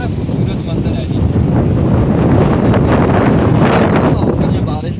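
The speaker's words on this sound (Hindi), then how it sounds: "हवा बहुत ठंडी हवा चल रही है" Cold wind gusts steadily over rain-soaked crop fields in a Punjab village, a loud continuous buffeting roar across the microphone with no clear pauses.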